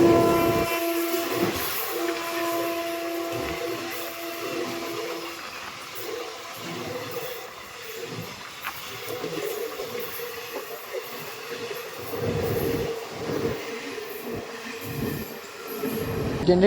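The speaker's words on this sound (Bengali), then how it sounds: "এটা হচ্ছে স্টিল এক্সপ্রেস" Steel Express train rolling through Kharagpur junction station, a long steady rumble of wheels and carriages with squealing rail noise and faint horn-like tones, continuous and close throughout.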